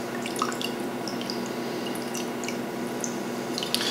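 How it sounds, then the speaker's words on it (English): Purified, very cold ice water trickles and drips steadily into a glass of Mephisto absinthe through a dripper, a close, soft continuous splashing with faint scattered drip sounds and no talking. "I'm going to add about 3 to 4 ounces of water in here."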